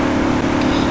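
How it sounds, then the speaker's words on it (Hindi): A limousine in a video game is driven at full speed, giving a loud, steady engine drone that holds without a break throughout. "अब मुकेश अंबानी जी इसको पूरे स्पीड में भगाएंगे"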